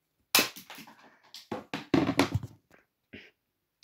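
A few sharp pops and knocks from a toy pistol shooting at a ball ring out close by, with short bounces and scattered rattling in between, then a faint tap at the end.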